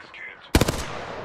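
In Apex Legends, a sharp close burst of rapid automatic gunfire erupts after a brief spoken voice, its cracks trailing into a fading rattle.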